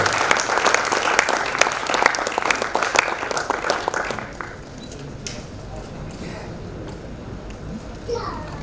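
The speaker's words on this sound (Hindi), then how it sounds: "मैं चाहता हूं सारा सदन जोरदार तालियां आदरणीय योगेंद्र शर्मा जी की अगुवाई में करे" An audience at an Indian poetry gathering (kavi sammelan) bursts into loud, dense applause for about four seconds, then the clapping breaks off into murmuring chatter and children's voices in the hall.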